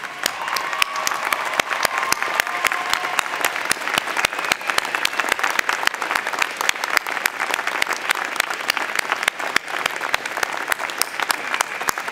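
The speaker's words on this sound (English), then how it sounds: "giving them a big round of applause" Audience applause at a UBC university convocation ceremony in 2012, a steady, dense round of clapping from a large crowd lasting the whole stretch, with no voices over it.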